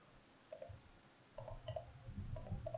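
Several soft mouse clicks, left and right buttons, come in two small bursts against a quiet room, used while switching oscilloscope cursors during a circuit lab lesson.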